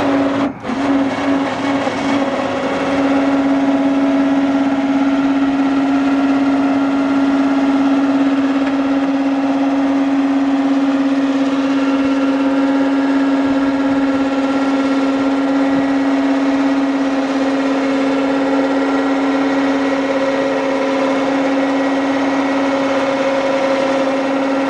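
Bed-mounted winch on a 1995 Ford F150 unspooling cable as the load rolls back down, a steady loud motor whine with a constant mechanical drone running the whole time, no talking.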